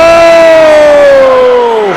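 A wrestling crowd inside the Holy Trinity Church venue roars loudly and steadily, with a strong sustained tonal whoop gliding slowly downward over the continuous cheering.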